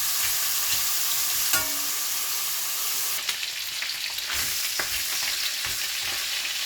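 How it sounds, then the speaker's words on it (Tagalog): Marinated pork sticks frying in a hot pan, a continuous close sizzle with occasional pops and light scrapes, no talking. "piprito na yung aking niluto na pork stick"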